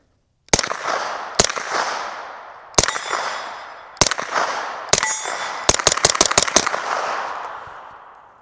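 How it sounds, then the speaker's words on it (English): A Springfield Armory Kuna roller-delayed 9mm pistol fires 124 grain hollow points into dirt outdoors: loud, sharp reports, first single spaced shots, then a rapid string of five, each ringing out with a long echoing decay. "Let's shoot some on the dirt first, see how it sounds."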